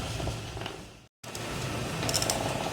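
Wooden oil press (marachekku) grinding sunflower seeds, producing a continuous low rumbling, creaking mechanical drone with a brief cut in the middle, close and steady, with no talking.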